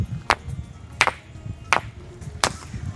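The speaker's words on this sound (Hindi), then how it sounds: "ये है नॉर्मल पत्थर और इस पे हम मार के देखते हैं कि इसका आवाज़ कैसा निकलता है।" An ordinary rock on Jhunjhunwa hill near Aurangabad is struck four times at a steady pace, each hit a dry, sharp knock with little ring, close by over a low outdoor rumble.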